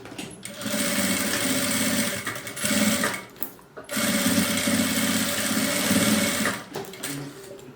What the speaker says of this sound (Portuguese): Agora eu vou costurar aqui o outro lado.